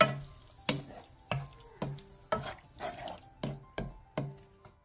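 A spoon turns a quail egg braise in soy sauce after perilla oil goes in, giving a series of about eight evenly spaced scrapes and clinks against the pot. The strokes are close and moderately loud, with no talking.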